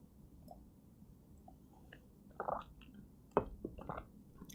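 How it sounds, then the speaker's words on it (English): Quiet close-up sips and swallows as a person drinks water, a few soft wet gulps and squishy mouth sounds clustered in the second half, with faint room noise underneath and no talking. "let me drink some water"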